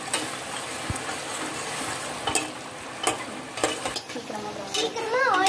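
Onions and green chillies sauté in a pan over a medium flame for mutton keema biryani: a continuous sizzle broken by sharp stirring scrapes and clinks at irregular moments, close and fairly loud.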